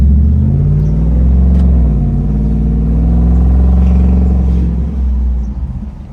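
A 2019 Ford F-150 with the Coyote 5.0 V8 and an MBRP exhaust exiting at the side ahead of the tires idles with a steady, deep, smooth rumble, close and loud, with a slight rise partway through and no talk.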